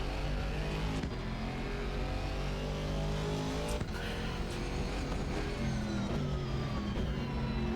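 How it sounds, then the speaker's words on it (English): Aston Martin GT4 race car engine in Assetto Corsa Competizione, a steady loud drone with sustained engine tones and a few shifts, heard alone without talk. "You sat in this gorgeous sounding Aston Martin."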